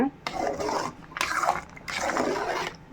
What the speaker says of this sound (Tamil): இந்த ஸ்டேஜில் கைவிடாமல் கிண்டிகிட்டே இருங்க